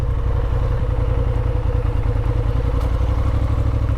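A motorcycle engine idles close by with a steady, rumbling low throb and even mechanical clatter, running continuously on its own without any talk.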